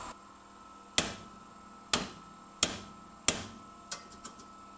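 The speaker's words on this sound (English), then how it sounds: "when we hit it with a giant hammer" A giant hammer strikes the outer tie rod ball joint of a 1992-1999 VW Jetta/Golf Mk III, four sharp metallic bangs at roughly even intervals, followed by a few lighter taps, with no talking.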